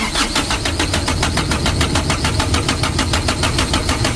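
A 100 cc Ragasa engine that is hard to start after a plunger replacement, revved hard with a loud, steady, rapidly pulsing rattling drone that holds for the whole stretch.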